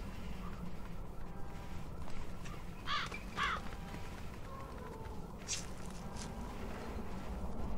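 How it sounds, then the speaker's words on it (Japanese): A crow in the video game ZombiU caws twice in quick succession, with a few fainter calls a little later, set against a low, steady ambient rumble. "カラスですね。"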